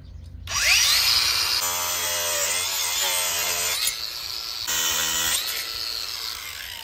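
A diamond core drill bores a hole for a water purifier install, with a wooden board held underneath. It spins up with a rising whine, then grinds steadily, its pitch wavering and briefly dropping out a couple of times, close and alone.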